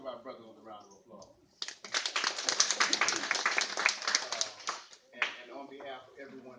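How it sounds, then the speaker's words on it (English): A crowd at a youth forum in East Point, Georgia breaks into a few seconds of applause between stretches of someone talking, the clapping dense and steady before fading out. "let's give our brother a round of applause"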